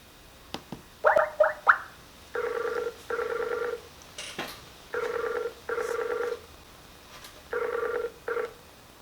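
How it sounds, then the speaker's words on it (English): A telephone call rings out unanswered, a repeated two-tone electronic ring in evenly spaced bursts with short pauses, fairly close over a quiet background, with a few soft clicks and no talking. "And of course, he doesn't answer the phone."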